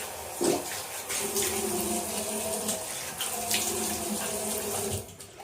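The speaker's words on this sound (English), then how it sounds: "Now cold water rinse, like always." Cold tap water running steadily into a sink for a post-shave rinse, a continuous splashing rush that stops abruptly near the end.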